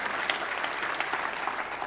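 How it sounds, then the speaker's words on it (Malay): A church congregation applauding during a sermon, a dense, even wash of clapping at moderate volume for the whole short stretch. "Tepuk tangan"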